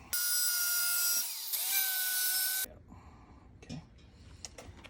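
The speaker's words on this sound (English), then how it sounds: "I'll go and grind these back a little more to get the bolt to go on up" A power grinder cuts into a steel turbo header flange, converted from LS to LT fitment, being ground back for bolt clearance: a loud, steady high whine for about two and a half seconds that pitches down briefly under load, then stops, leaving faint clinks and handling noise.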